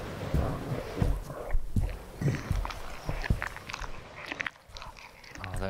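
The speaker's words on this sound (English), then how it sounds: "Oh, that chewing sound is so awful." Wet, fleshy chewing and biting from a monster in the indie horror video game From the Darkness, repeating in uneven bursts over a dark rumbling ambience, with a voice speaking at times.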